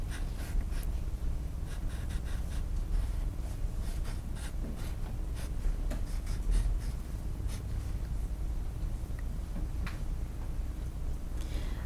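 Pen or pencil drawing three boxes on paper, close scratchy strokes in short repeated bursts with brief pauses, quiet and without talking.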